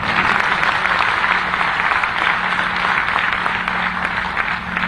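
Steady, dense applause from a large crowd fills the hall at a government development-works inauguration, honoring the district collector's birthday. The clapping stays loud and even throughout.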